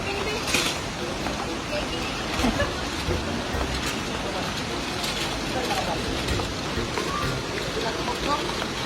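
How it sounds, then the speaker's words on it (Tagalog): Heavy rain drumming steadily on a surface, a constant dense hiss with low rumble, voices faintly present beneath it. "Pero diba, ang lakas ng ulan."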